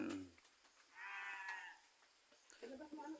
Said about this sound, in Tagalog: Yung aking mga alagang tupa.